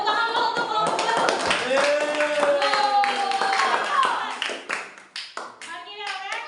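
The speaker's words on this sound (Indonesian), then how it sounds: "Tepuk tangan dulu untuk kelompok 3." Classroom clapping for a student group during an Islamic education lesson at IAIN Lhokseumawe: rhythmic, close handclaps from many hands, mixed with children's voices calling and chanting, then tapering off into a few scattered claps.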